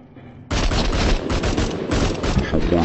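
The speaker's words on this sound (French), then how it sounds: "Il m'a mis une balle de pompe avec le nouveau." Shotgun fire erupts in the online survival game Rust, a burst of loud rapid shots and booms that crowd together for a few seconds with some voice underneath.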